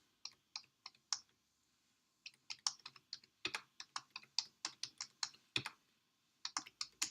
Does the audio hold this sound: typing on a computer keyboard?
yes